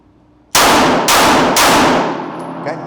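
Three sharp, loud pistol shots at a target, evenly spaced about half a second apart, each a hard crack ringing on into a fading tail after a quiet start.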